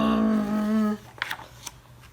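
A voice imitates a lawn mower's steady zooming drone, holding one buzzing tone for about a second before trailing into faint breathy bursts.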